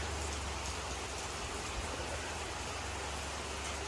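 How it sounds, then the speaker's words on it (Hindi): Heavy rain pours down steadily in the hills, a dense, even hiss of drops on surfaces, continuous and fairly faint with no voices. "ये देखो बहुत तेज बारिश होने लगी है पहाड़ों में"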